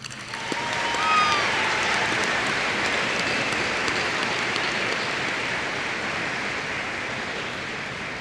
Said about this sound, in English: give all of your villagers a huge round of applause